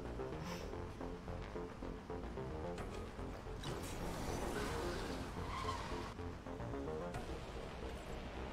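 Cars skidding in the game Dark Future: Blood Red States, tires squealing and scraping over a rumbling engine, with repeated harsh bursts and crunches, fairly loud and continuous.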